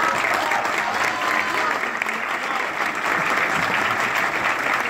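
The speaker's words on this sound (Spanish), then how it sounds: "Así que un aplauso, mi pueblo." A theater audience applauds steadily and loudly at a celebration of a stage production's run, dense clapping filling the whole stretch without a break.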